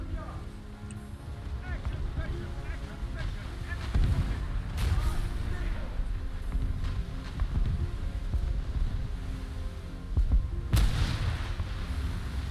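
Booming gunfire in a shooter video game, with heavy shots and blasts, a big burst near the middle and another loud one near the end, all over steady game background noise.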